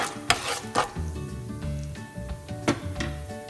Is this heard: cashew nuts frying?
yes